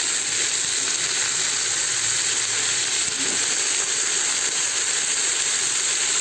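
Brinjal frying in a hot pan gives a steady, loud sizzling hiss that runs unbroken from start to finish, with no voices over it.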